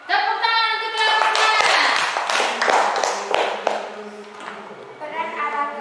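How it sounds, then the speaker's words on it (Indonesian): A classroom of students applauds a student group during a Catholic religious education lesson, with scattered close claps and taps mixed under children's voices and singing-like speech. "Tepuk tangan untuk kelompok"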